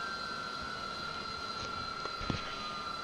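A steady aircraft engine drone from a flight simulator game, with a constant high whine and hum holding evenly throughout and a faint click near the end.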